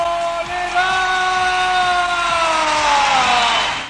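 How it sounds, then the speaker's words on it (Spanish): A large crowd applauds and cheers for the singer, a steady loud roar of clapping and voices with one long, falling shout carried above it throughout. "Este aplauso es para la número uno"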